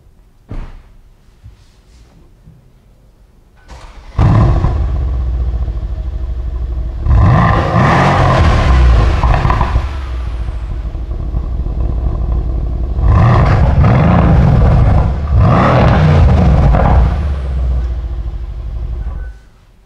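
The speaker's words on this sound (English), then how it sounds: "This one actually has the AMG Performance Exhaust Sound Pack." A 2015 Mercedes C63 AMG with the AMG Performance Exhaust fires up after a brief quiet, settling into a loud, close rumble with two stronger rev surges.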